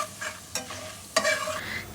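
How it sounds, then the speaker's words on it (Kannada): Chana dal frying in oil with mustard seeds and cumin, sharp stirring scrapes and clatters of a spoon over a light crackling sizzle, heard up close in a short burst. "ಕಡಲೆಬೇಳೆ 1-2 ಟೇಬಲ್ ಸ್ಪೂನ್ ಅಷ್ಟು ಹಾಕ್ಕೊಂಡು ಅದನ್ನು ಕೂಡ ಕೆಂಪಗಾಗೋ ತನಕ ಫ್ರೈ ಮಾಡ್ಕೊಳ್ಳೋಣ"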